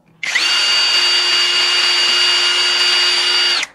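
A Mollar CD12300 brushless cordless drill spins up sharply and runs at a steady high-pitched whine for about three seconds before stopping, close and loud with no talk.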